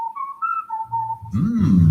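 In a radio ad for a DQ $7 meal deal, a person gives an appreciative whistle: a clear, wavering tone lasting just over a second, followed by the start of other sound.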